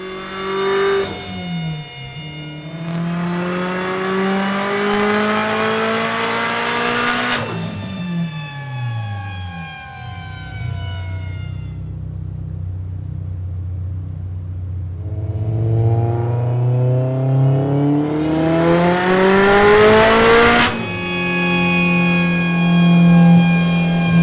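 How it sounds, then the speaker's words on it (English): A tuned race car on a test drive revs hard through the gears, its engine note climbing and dropping in repeated accelerations, with a lower rumbling idle between pulls, loud and close. "That is me testing the car, making sure what I requested was done"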